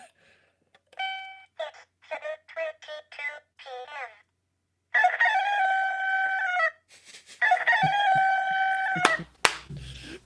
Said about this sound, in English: That's the alarm clock sound.